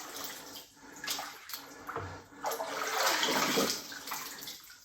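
Water splashing and churning against itself, a fairly quiet rushing wash with uneven surges that build toward the middle and ease off, with no voices.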